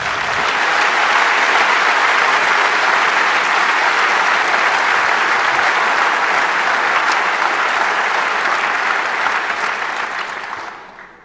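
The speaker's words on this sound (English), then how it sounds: "a round of applause" A large audience at the 27C3 closing event bursts into loud, sustained applause that holds steady for about ten seconds before tapering off at the end.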